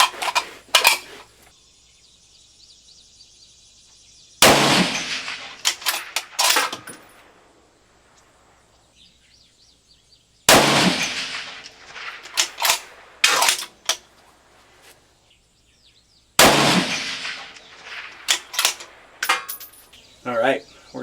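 Rifle shots fired at a 300-yard range with Winchester long range service grade ammunition, the rifle fitted with a TMB barrel tuner and no muzzle brake: three loud, sharp reports spaced several seconds apart, each trailed by echoing clatter.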